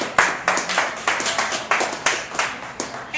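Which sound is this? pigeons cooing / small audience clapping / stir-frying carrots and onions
small audience clapping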